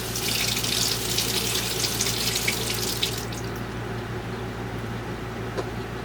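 An egg preserved in pickling lime is rinsed under a running kitchen tap, water hissing steadily into the sink, then the flow eases partway through.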